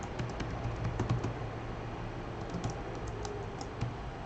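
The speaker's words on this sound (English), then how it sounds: "My typing is coming up like just like a quarter of a second after I press the keys" Typing on a computer keyboard during a live-streamed programming lecture, a rapid, faint, steady patter of key clicks with no talk.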